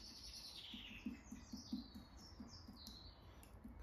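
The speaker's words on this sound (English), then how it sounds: "There's some birds that are happy in the garden today." Small birds chirp and tweet faintly in a garden, a steady scatter of high calls over a soft, low tapping background.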